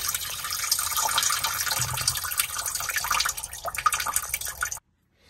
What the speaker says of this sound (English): We're draining out now that I take that plug out.